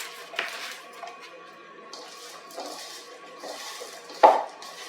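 Grilled shrimp and mushrooms are tossed by hand in a bowl, with soft wet squelches and a few light clinks of dishware, ending in a sharper knock near the end; no speech.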